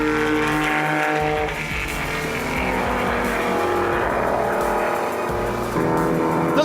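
Race cars accelerating hard down a start-finish straight, engines roaring loudly with rising and shifting pitch as several cars pass close by in quick succession.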